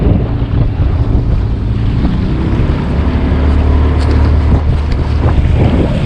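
A small motorboat runs at sea, its engine giving a steady low drone mixed with rushing water and heavy wind buffeting the microphone, loud and continuous, with no speech.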